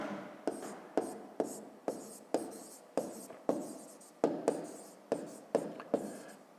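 A pen writes on paper in a math notebook, a steady series of short scratchy strokes, each starting with a sharp tap, close and fairly quiet, with no talk.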